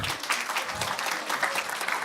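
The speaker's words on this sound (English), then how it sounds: "Please give her big applause." A conference audience at an intellectual property event applauds a speaker being introduced, a brief, even patter of many hands clapping at a moderate distance.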